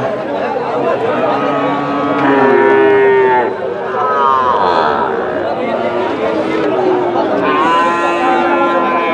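Young bull calves moo at a busy cattle market, with several long, loud lowing calls overlapping over a constant background of crowd chatter and talking.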